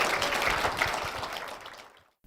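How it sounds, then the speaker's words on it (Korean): A church audience applauds during a Korean television program, a dense, fairly loud wash of clapping that fades out over about two seconds. "박수 부탁드립니다."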